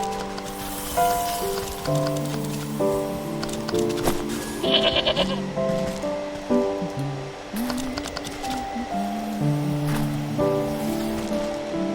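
Goats bleating in the video game Wytchwood, several tonal bleats one after another across the clip, fairly close, over a soft background of game music or ambience and light rain-like patter.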